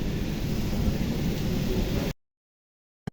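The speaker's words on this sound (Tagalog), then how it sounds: "Ayan, inaabot na tayo ng ulan." A dense hiss of rain pours steadily at People's Park in Tagaytay for about two seconds, then cuts off abruptly into silence, followed by a brief click.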